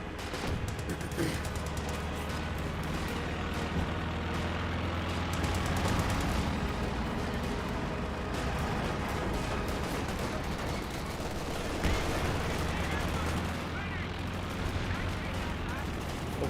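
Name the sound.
gunfire in the video game Company of Heroes 2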